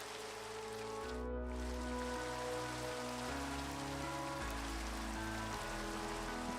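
Steady rain pattering on the ground in Minecraft, a continuous even hiss with no pauses, alone and moderately loud.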